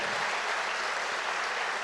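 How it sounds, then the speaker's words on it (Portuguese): A church congregation applauds during a sermon, a brief, even roar of many hands clapping at once, filling the room without any voices on top. "Dê uma salva de palmas para Ele"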